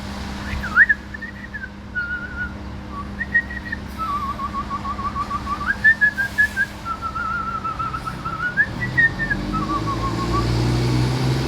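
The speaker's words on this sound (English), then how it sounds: "My whistling sucks." A person whistles a wavering, bird-like tune in short phrases, moderately loud and close, while a low vehicle rumble rises toward the end.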